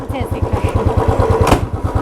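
A motorcycle is ridden through Ahmedabad, its engine putting out a loud, steady, rapid pulse close by, with a voice and brief passing noise over it.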